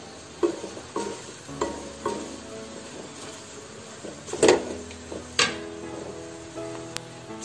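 Round-cut bread slices are stirred into spices in a frying pan, with a soft sizzle under a regular series of scraping and tapping strokes close by, and no talk.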